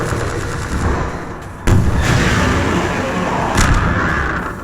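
Gunfire in Half-Life 2: Episode One, dense rapid shots and a sharp loud report midway with another burst near the end, against a constant roar of combat noise.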